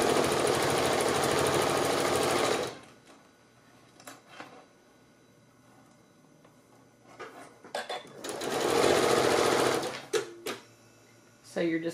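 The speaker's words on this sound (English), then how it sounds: "you're basically just going to keep folding and stitching and folding and stitching" A sewing machine stitching a three-layer pleated fabric mask runs in two loud, fast-buzzing bursts, one at the start and one near nine seconds, separated by quiet gaps with soft handling clicks and brief talk.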